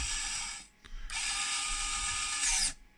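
A small, fast electric motor drives an excavator quick coupler mechanism, producing a close, high-pitched geared whir that cuts out briefly, restarts and runs steadily, then stops.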